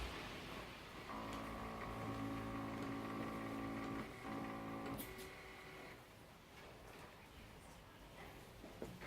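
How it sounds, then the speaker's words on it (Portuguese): The printer behind a Brazilian electronic voting machine prints a receipt, a steady mechanical whirring hum for about four seconds, then stops, leaving low room noise. "Ela vai testar a impressora que temos atrás da urna eletrônica."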